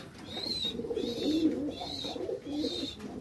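Black Maltese pigeons coo in soft, repeated low calls close by, with a few higher notes mixed in across a few seconds.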